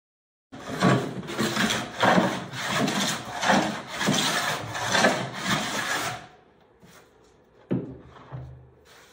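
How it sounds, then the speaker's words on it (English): A wooden paddle board deck is planed by hand in six or seven rhythmic rasping strokes, close and moderately loud, then fading to quieter scraping and a couple of light knocks. "we started working on smoothing and planing the actual deck, so the top of it"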